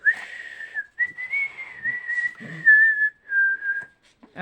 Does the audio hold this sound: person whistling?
yes